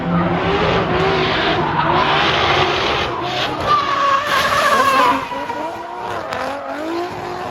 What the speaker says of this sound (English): I'm going to build this R34 for street drifting